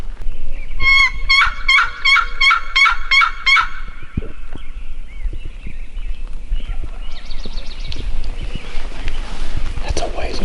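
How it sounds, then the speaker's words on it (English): A wild Merriam's turkey gobbles in a rapid rattling burst repeated several times in quick succession, then a fainter distant gobble follows, heard outdoors in the Nebraska Pine Ridge with scattered footsteps and rustling nearby. "we can still hear him gobbling kind of where we put him to bed last night"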